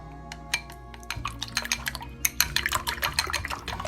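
Pork and scrambled egg mixture being stirred in a bowl, producing quick wet clinks and scraping taps of utensil against dish, with small splashy sounds in an uneven rhythm.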